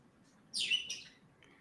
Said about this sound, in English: If you want me to mute myself so the birds aren't loud, just let me know.